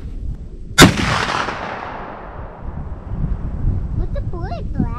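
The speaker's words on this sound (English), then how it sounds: "Alright, 3rd shot." A CVA Wolf muzzleloader rifle fires one loud, sharp outdoor shot that booms and rolls away into a long fading rumble, with wind noise and a voice afterward.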